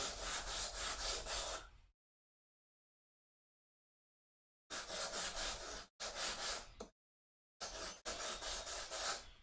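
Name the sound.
chamfering the edges of wooden bookends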